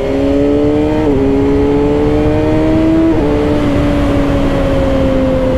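A 2024 Kawasaki ZX-6R Ninja engine at full power in sport mode, a loud steady whine rising in pitch with two brief dips as gears shift, heard on board under heavy wind roar.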